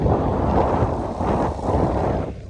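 Strong wind blowing across a field by a bean and strawberry plot, a steady, loud broadband roar buffeting the microphone without letup for the whole stretch.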